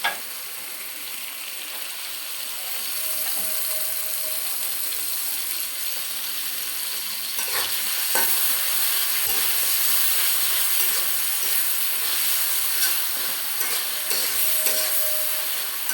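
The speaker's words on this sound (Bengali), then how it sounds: "এবার মাংসগুলো দিয়ে দেব, এই মাংস এগুলো দিয়ে দেবো সবগুলা" Beef pieces going into a pan of spice masala for noodles and frying, a constant hissing sizzle that swells slightly midway and carries on steadily without talk.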